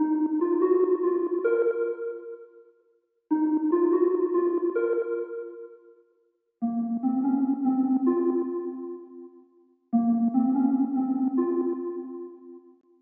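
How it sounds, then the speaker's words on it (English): A simple synth melody built from a one-shot analog-style sample, in four phrases of sustained, bell-like tones, each fading out before the next begins, clear and alone. "I just played this super simple melody that sounds like this"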